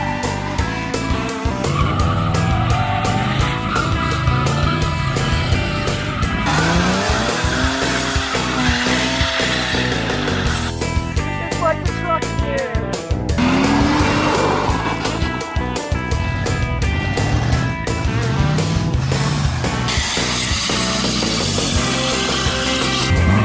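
A third-generation Mark III Toyota Supra with a swapped 2JZ engine, heard as a busy, continuous drive with engine roar and tire squeal and skidding rising and falling throughout.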